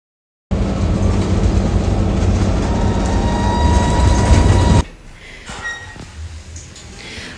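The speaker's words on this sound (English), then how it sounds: "I'm at the train station." A train at an Amtrak station, a loud steady roar of rolling cars and rail rumble close by, cutting off abruptly to quieter station ambience with faint distant clatter and no talking.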